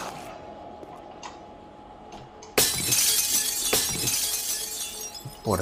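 Glass door shattering in the 7 Days to Die video game: a sudden loud crash of breaking glass midway, followed by a dense spray of tinkling shards and a few later clinks, preceded by quiet game ambience and faint ticks.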